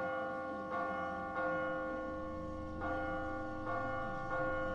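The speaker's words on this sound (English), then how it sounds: "You know, all the bells probably drew a lot of them here." Church bells ring in The Walking Dead video game, four or five slow, resonant strikes at a measured pace, each leaving a long humming decay, moderately loud with no voices.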